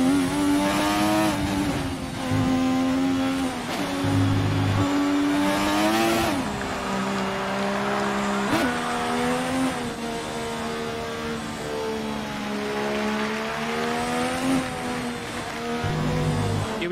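A turbocharged race car engine in the F1 2020 video game howls at high revs through a lap, rising and dropping with gear shifts, loud and continuous with no talking.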